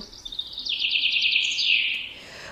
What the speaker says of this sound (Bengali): হঠাৎ একটা বড় পাখি বিকট ডাকতে ডাকতে ডানা ঝাপটে উড়ে গেল